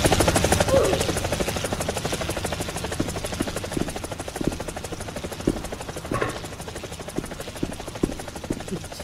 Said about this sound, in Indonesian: Ini kita dalam apa sih, dalam helikopter ya?